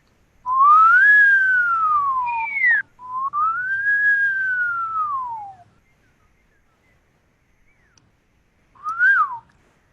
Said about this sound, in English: Do you want to whistle together?